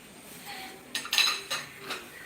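Cutlery and dishes clink and rattle while being washed, with a few sharp metallic clinks over a low background hiss and no talking.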